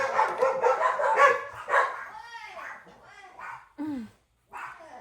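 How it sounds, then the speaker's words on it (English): Several excitable dogs bark and yip in short bursts near the microphone, some barks overlapping with a person talking, ending in a whimpering yelp and a final bark. "My dogs are a little high strung today."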